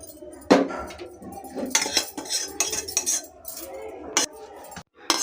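Pineapple kesari being tapped out of a ghee-greased mould onto a plate, giving a few sharp metallic clinks and knocks of utensil on dishware, fairly close, with no talking.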